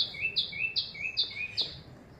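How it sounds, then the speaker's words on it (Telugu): A small bird sings outdoors near potted garden plants: four or five quick, bright two-note chirps repeat in a steady rhythm over a soft background. "బర్డ్ చూడండి ఎంత బాగా అరుస్తుంది"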